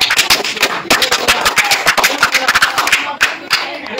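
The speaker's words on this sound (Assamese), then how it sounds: "সকলোকে হাত চাপৰি দিবা" An audience applauds at a cultural group's year-end closing ceremony: dense, rapid hand claps, close and loud, sustained evenly throughout.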